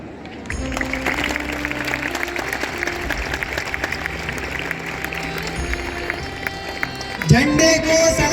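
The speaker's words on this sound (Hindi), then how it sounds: "जोरदार तालियों से हमारे चीफ गेस्ट का स्वागत करिए" Loud applause from an assembled crowd greets the chief guest at a Republic Day flag unfurling ceremony, dense clapping sustained for several seconds before a tonal sound cuts in near the end.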